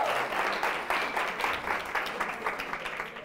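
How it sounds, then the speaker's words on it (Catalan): A studio audience at a school quiz show applauds, a brisk wash of many hands clapping with a slightly pulsing rhythm, moderately loud and gradually easing toward the end. "Aplaudim, 200 punts."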